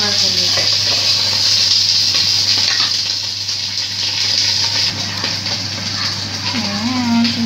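Fish sizzles and fries steadily in a hot pan right after being flipped, a dense continuous crackle with a low hum underneath and brief kitchen clatter.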